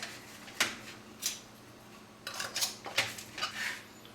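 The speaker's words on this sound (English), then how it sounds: "now what we're going to do is we're going to put our band on our jar." Metal screw bands clinking against hot glass canning jars of plum jam, several sharp separate taps and rattles, close and fairly quiet.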